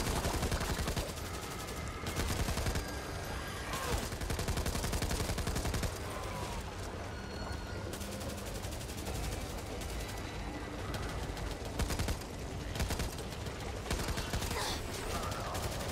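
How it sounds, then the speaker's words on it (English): Rapid machine gun fire in the co-op shooter Back 4 Blood, loud sustained bursts with short gaps, mixed with other gunshots and game effects under occasional voices. "Time for the machine gun!"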